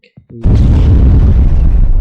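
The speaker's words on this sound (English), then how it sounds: "I also got hit from the explosion because I stayed too close" A mine detonates in an Unreal Engine 5 video game: a loud, sudden blast of broad rumbling noise that holds at full strength for over a second and a half, after a few faint clicks.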